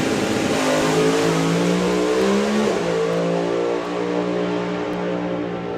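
A drag racing car at the FIA/FIM European Finals launches and accelerates down the strip, a loud, continuous engine roar with a steady pitch that climbs and holds, with a slight dip partway through.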